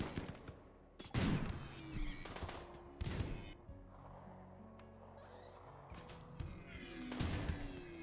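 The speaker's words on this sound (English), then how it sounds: "They are shooting the hell out of each other." Video-game gunfire crackles in several bursts of shots, with sharp loud volleys spaced among quieter stretches of background game sound.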